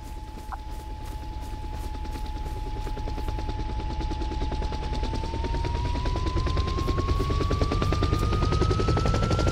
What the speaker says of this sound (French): Je tire dans l'hélice arrière.